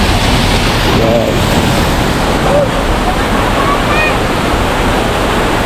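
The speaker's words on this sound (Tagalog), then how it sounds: "Ayun na, may falls." A waterfall on a nature trail gives a steady, loud, unbroken rushing roar of falling water, with a few faint voices or whistles briefly audible over it.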